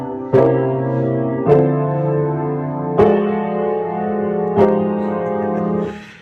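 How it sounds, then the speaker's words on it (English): Four sustained, rich jazz chords on keyboard struck one after another at a slow, even pace, each ringing out before the next; no voices. "These crazy chords that shouldn't sound good"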